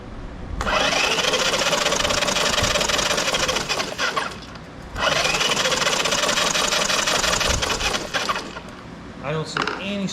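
An abandoned Honda Big Red ATC 200es three-wheeler engine cranks over on a starter in two long, loud, steady whirring bursts separated by a brief pause, with a short clatter at the end.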